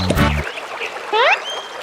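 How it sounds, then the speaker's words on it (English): An animated children's story duck gives one short, loud, hoarse quack, followed after a brief pause by a quick rising, whistly cartoon sound effect. "Suddenly, a hoarse quack comes from below Mama Duck."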